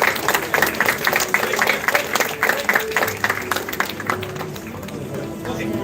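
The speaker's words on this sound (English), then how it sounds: "Ladies and gentlemen, please give them a big round of applause." A large audience at a university campus ceremony gives a big round of applause to top-ranked students, dense and loud continuous clapping with a murmuring crowd underneath, holding steady throughout.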